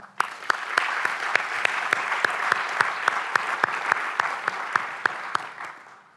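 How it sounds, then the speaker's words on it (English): Applause at a university awards ceremony rolls on as a steady crowd wash, punctuated by one set of sharp, evenly spaced claps ringing out close by. "A round of applause for Abby."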